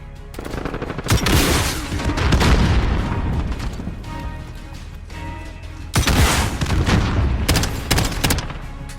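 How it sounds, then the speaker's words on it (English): BB gun shots go off in rapid loud bursts, a dense rattling volley at the start, a short gap, then another burst near the end, with no voices heard. "We shot that BB gun"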